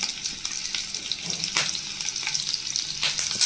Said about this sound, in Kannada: ಎಣ್ಣೆ ಕಾಯ್ದ ನಂತರ ಬೆಳ್ಳುಳ್ಳಿ ಹಾಕ್ಕೊತ ಇದ್ದೀನಿ ಬೆಳ್ಳುಳ್ಳಿ ಚೆನ್ನಾಗಿ ಫ್ರೈ ಆಗಬೇಕು